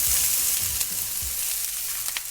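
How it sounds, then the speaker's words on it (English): Red onion frying in olive oil gives a steady broadband sizzle with a few low knocks and scrapes of stirring, close and continuous for about two seconds, no voices. "This is the part where we add lots of onions. So we heat up some olive oil"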